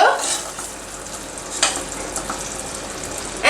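Chhena sweet stirred in sugar syrup in a pan after the gas is switched off, a faint, hissy sizzle with a few scraping strokes and a sharper clatter near the start and end.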